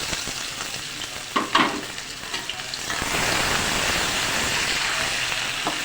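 Finely chopped onion dropped into hot oil with fenugreek seeds, for masoor dal khichdi: a steady sizzle with a few clinks of a spoon early on, then a louder, dense frying hiss that fills the rest, with no one talking.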